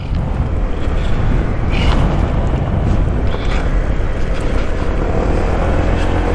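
A Honda ADV 150 scooter rides off-road on rough enduro terrain, its engine droning loudly and steadily against constant wind and road rumble, with no talk.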